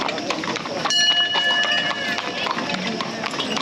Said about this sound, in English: how are the horse and carriage rides going?